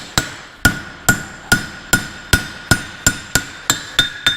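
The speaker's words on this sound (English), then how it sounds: "Overlapping hammer blows, run up each of those edges" A farrier hammers metal at a steady pace, about ten sharp ringing blows in a row, each one loud and close with a short metallic ring. No one speaks.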